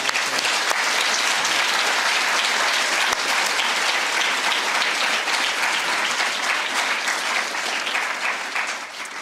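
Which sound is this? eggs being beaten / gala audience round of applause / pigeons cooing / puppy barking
gala audience round of applause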